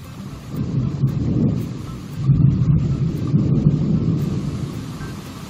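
A thunderstorm with heavy rain pours over a yard, with deep rolling thunder swelling twice over a steady wash of rainfall, close and loud with no talking.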